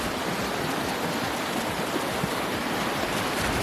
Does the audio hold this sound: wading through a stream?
yes